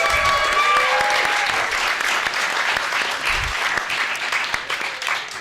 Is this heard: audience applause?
yes